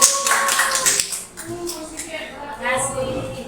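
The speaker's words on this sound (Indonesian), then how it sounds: "Tepuk tangan dong buat Bu Siti." An audience claps for a teacher at a school presentation on positive classroom culture, a short burst of scattered applause mixed with talk.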